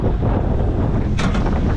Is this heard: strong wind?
yes